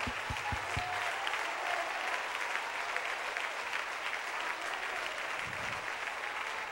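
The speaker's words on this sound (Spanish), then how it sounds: "¡Aplauda al rey!" A church congregation applauds steadily and densely for the whole stretch, sustained clapping with a few sharp louder claps near the start and faint voices mixed beneath.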